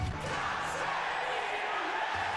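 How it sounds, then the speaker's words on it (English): Arena crowd noise in WWE 2K18 at a Dublin wrestling match, a steady roar of cheering that fills the whole stretch without a break. "And the Dublin crowd know what's up as well"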